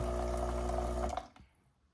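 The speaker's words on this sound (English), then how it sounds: "this must be the last part of the cycle, which is where it runs a little hot water for you." Hot water streams steadily from a Lavazza Classy Plus coffee machine at the end of a descaling cycle, with a humming pump, then cuts off abruptly, leaving a few faint drips.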